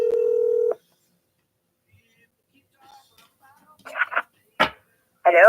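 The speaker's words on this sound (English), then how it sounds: "I'm calling 443." A telephone gives a loud, steady dialing tone for under a second, followed by quiet gaps and a few short, fainter electronic bursts.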